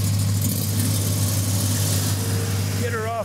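A cable trailer truck's engine runs at a steady low idle with a constant hum, loud and close; a brief rising tone is heard near the end.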